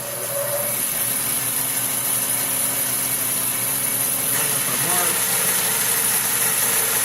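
A saw on a miter sled cutting a flame maple guitar neck, running with a steady, even, close whine and hum that holds unbroken from start to finish.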